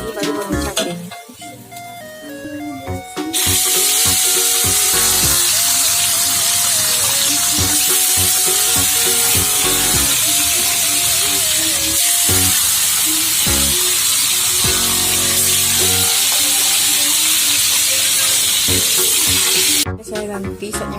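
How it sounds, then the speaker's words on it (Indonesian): Chili peppers already mixed with shallots hit plenty of hot oil, a loud, continuous sizzle and crackle that swells after a brief quieter start and carries on steadily, with occasional stirring clatter. "baru goreng cabenya."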